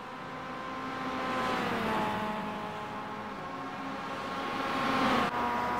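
Mazda MX5 Cup race cars in a sim racing game at Oulton Park drone with a steady, tonal engine note that swells and eases as they run, with no voices over it.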